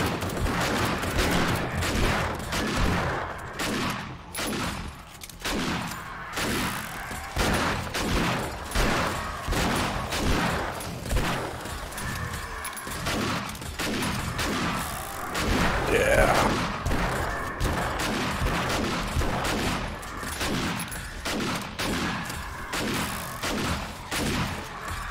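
Rapid bursts of gunfire pour into a zombie horde in the survival game 7 Days to Die, with dense overlapping shots and thuds running continuously, and a voice briefly speaking beneath the shooting.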